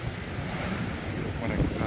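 Sea waves washing at Waisai beach in Raja Ampat, a steady broad surf roar mixed with wind buffeting the microphone, continuous and fairly loud, no talk.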